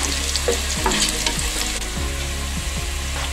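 Steady, dense sizzling of tempering spices frying in hot oil, close and continuous, with a few soft stirring scrapes along the way.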